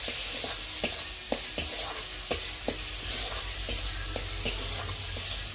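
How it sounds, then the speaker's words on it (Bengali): Cumin and coriander powder fry in hot oil in a pot on a clay pipe stove while mutton is cooked. A steady, bright sizzle runs throughout, broken by regular scraping knocks of stirring about every half second. "এবার মশলাটা অনেকটাই ভাজা ভাজা হয়ে গেছে"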